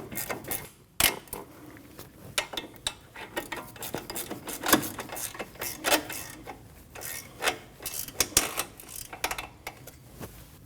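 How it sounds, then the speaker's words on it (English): Subaru Forester front brake caliper bracket bolts being tightened over the rotor, heard as close, quiet ratcheting and rasping metal clicks in irregular bursts with no talk. "Now you want to slide your caliper bracket over your rotor and install your 2 bolts. And you can tighten those 2 bolts down."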